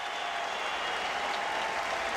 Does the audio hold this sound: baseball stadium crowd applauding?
yes